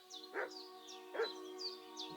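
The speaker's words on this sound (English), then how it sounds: "Or is that the dog down here?" In the Kingdom Come Deliverance video game, a dog gives two short, faint barks or yips a little way off, heard over a quiet tonal game ambience.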